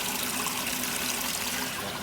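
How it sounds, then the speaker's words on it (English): Water pours steadily into the tub of a Maytag washing machine, making a constant loud hiss and splash close by. It keeps up without a break and no one speaks. "So, the water coming in over here on this one."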